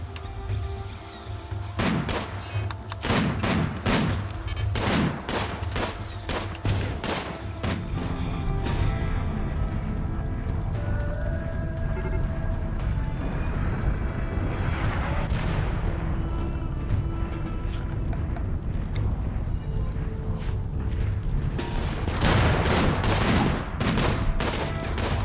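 Sniper gunfire in the RimWorld video game on the hardest difficulty, sharp cracks in quick clusters early on, then scattered shots and booms over a continuous rumbling battle bed, fairly loud with no talk.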